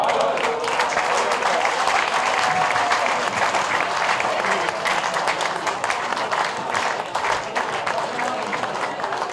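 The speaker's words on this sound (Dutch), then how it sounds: "applaus voor Peter Jacobs." A large audience at a carnival-style comedy evening applauds steadily for several seconds, dense continuous clapping with a few voices mixed in.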